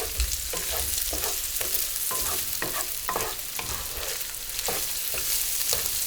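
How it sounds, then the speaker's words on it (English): Eggs and kielbasa sizzle steadily in a pan while a utensil scrapes and stirs them together in a regular rhythm, close by. "Now we're just going to stir everything together."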